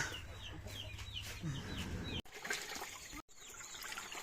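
Chickens cluck and call repeatedly in a rural Thai village yard, near and steady, over a constant background of running or trickling water.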